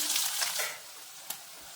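Onion fries with chana dal, mustard seeds and cumin in a pan for banana flower curry. A bright, close sizzle fades slightly, with a small click near the end.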